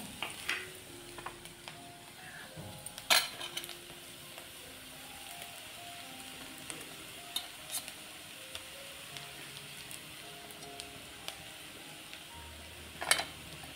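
Grated coconut sautéing with browned onions in a pan for a Malvani chicken dish, a soft steady sizzle with scattered stirring scrapes and a few sharper clicks, fairly quiet with no talk.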